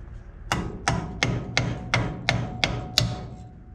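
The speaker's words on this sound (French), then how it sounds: "Là, le marteau est notre allié dans la mécanique." Hammer blows during mechanical work on a Renault 4L, eight sharp metallic strikes in an even rhythm about every third of a second, loud and close with a short ringing decay after each.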